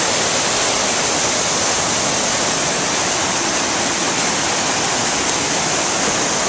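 Johnson Falls pours in a steady, loud, unbroken roar of falling water, close by and constant with no other sounds.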